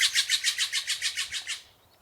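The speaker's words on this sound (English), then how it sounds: "The birds have been very lively here this morning" A lively bird on a Vancouver Island morning delivers a rapid series of about ten bright, evenly spaced chirps close by, then trails off into quiet.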